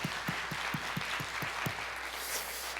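Church congregation at a Wednesday prayer service claps for the worship team and broadcast crew: a brief, even run of soft handclaps in a steady rhythm under room noise, with no talk.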